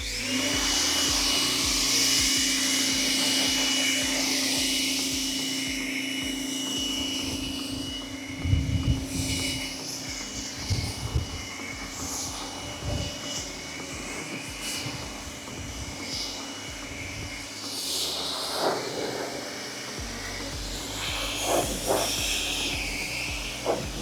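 A car being rinsed down with a water spray after a thick pre-wash foam, outdoors between sun and shade: a steady loud hiss of spraying water runs throughout, with bursts and splashes where the stream hits the body.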